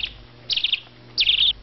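Two loud, clear bursts of rapid high chirps from a bird ring out close by along a river in Tesso Nilo National Park, separated by a brief quiet gap.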